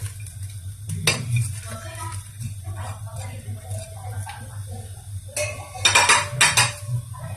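Chopped onions, green chilies and ginger frying in a pan for mackerel fish curry, with a low sizzle under repeated metallic clinks and scrapes of a spoon against the pan, some louder clattering near the end.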